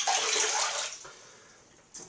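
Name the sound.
water running, rinsing alum off the face after a shave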